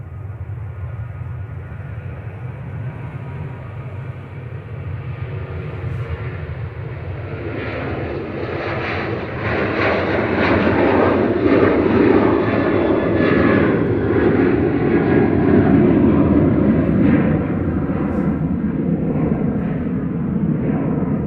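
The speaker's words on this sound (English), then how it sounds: "And this is Ryanair departing to Salzburg, EGCC, with flight 1737." A Ryanair jet airliner departs Manchester Airport for Salzburg, its engine roar steady at first, then swelling louder and broader midway through and holding strong as the aircraft climbs away, with no voices.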